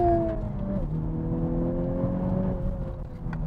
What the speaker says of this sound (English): So let's see how fast this 2021 Honda Civic Type R is, 0 to 100.